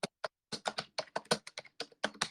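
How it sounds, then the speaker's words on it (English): Keys on a computer keyboard clatter in quick, uneven taps, about a dozen close crisp clicks in a rapid burst with no talking. "I'm typing them now, Kathy."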